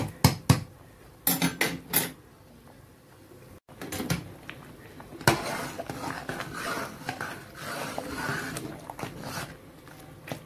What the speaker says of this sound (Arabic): وطبعا كل شوية نقلب فيها كده